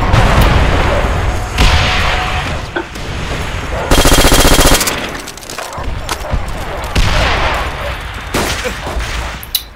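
FG42 machine gun in Call of Duty 5 fires in loud, close bursts, with a long rapid burst in the middle and game explosions and gunfire around it.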